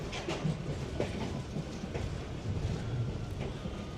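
A MEMU special train from Coimbatore toward Dindigul runs along with a continuous rumble and rhythmic clickety-clack of wheels over rail joints, heard from inside the carriage at moderate volume.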